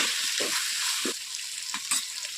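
Ginger garlic paste with turmeric sizzles in hot oil, a steady frying hiss with several short scraping knocks as a spoon stirs the mixture.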